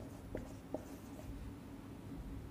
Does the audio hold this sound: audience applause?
no